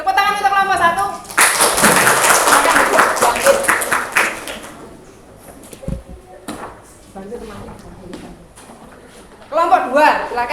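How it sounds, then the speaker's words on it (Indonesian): Classmates clap for group 1 in a school lesson, a brief burst of applause between stretches of talking, with clattering and knocks around the room. "Tepuk tangan untuk kelompok 1."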